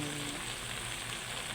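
Chop suey with broccoli, carrots and cabbage sizzles in a hot pan while being stir-fried, a dense, steady crackling hiss close by with no pauses.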